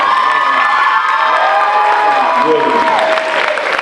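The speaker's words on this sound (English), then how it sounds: "Y'all give y'all band a huge round of applause." A high school crowd at a Black History program cheers, whoops and applauds loudly for the school band, with shouting children and a voice speaking briefly over the din.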